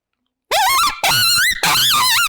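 Three drawn-out, wavering squeals blown on an open reed predator call to mimic a prey animal, loud and close, each cry bending in pitch with brief gaps between.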